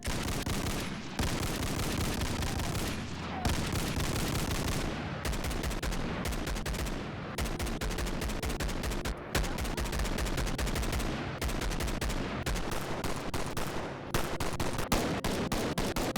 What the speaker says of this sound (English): The DS56 weapon arsenal. It's got a range of guns you can shoot and play around with.